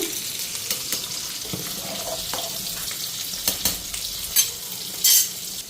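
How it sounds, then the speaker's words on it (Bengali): Fish frying in a pan at home, a steady broad sizzle with scattered sharper crackles and stirring clatter, the loudest bursts near the end; no voices. "আর মাছটা এক পিঠ ভাজা হয়ে গেল"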